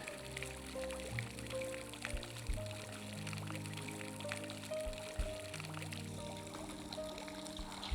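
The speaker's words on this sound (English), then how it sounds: "There's just something about the sound of water that makes you peaceful and calm." Water trickles and pours steadily at the grounds of Wenngarn Castle in Sweden, a soft continuous flow with sustained musical tones running beneath it.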